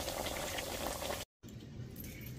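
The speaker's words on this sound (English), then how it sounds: "It is sitting in there. It is frying." Homemade french fries sizzle and bubble in hot oil, a soft dense crackle that briefly drops out before resuming, quiet and close with no talking.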